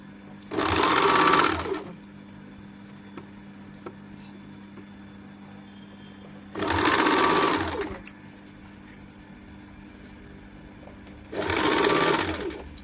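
A sewing machine stitches a fabric strip for loose palazzo trousers in three short, loud bursts of whirring, separated by pauses in which only a low steady hum remains.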